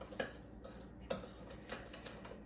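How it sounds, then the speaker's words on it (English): Sugar and flour being mixed in a bowl with a utensil, quiet scraping and a couple of sharper clinks against the bowl, close and faint, with no speech. "I'm just going to mix that all together here"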